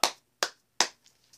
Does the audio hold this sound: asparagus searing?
no